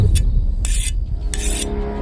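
A blade is sharpened with repeated rasping strokes, three bright scraping passes with short gaps between them, close and fairly loud.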